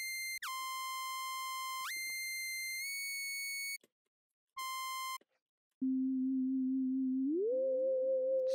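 Spooky sine-like synth lead for a trap beat, pure bright tones that hold, drop and jump in pitch, then a lower sustained note with portamento slides stepping upward, fairly quiet with brief silent gaps.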